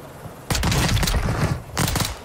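Bursts of rapid gunfire in the video game Warzone, one long loud fusillade of fast shots followed after a short gap by a second brief burst, close and sharp with no talk.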